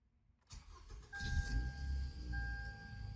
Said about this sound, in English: now we're going to start the car here